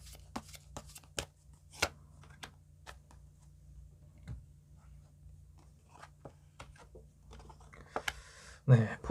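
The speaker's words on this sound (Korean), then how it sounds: "한번 2장을 뽑아서 알아볼게요." Tarot cards are shuffled and drawn by hand, giving soft scattered flicks and card snaps at close range in a quiet room, with a brief louder rustle at the end.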